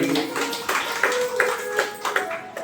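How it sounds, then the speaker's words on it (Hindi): Scattered audience clapping at a Hindu religious discourse gathering, a few bursts of claps and taps at moderate volume rather than a full ovation, with faint voices underneath. "एक बार जोरदार तालियां के लिए।"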